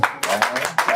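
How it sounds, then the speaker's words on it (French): Short bursts of hand clapping from an audience at a school closing ceremony, a few loud separate surges in quick succession. "On peut applaudir."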